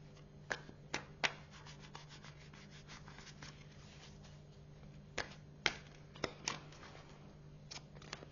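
Tarot cards are drawn and handled close up in a quiet room, making soft rubbing and sliding sounds with scattered sharp flicks and snaps at an uneven pace.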